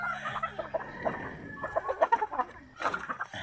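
A hybrid chicken, a fighting-cock type, clucks repeatedly in a farmyard: soft, close, choppy clucks in quick uneven bursts with short gaps and no talk.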